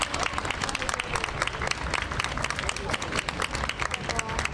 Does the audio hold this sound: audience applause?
yes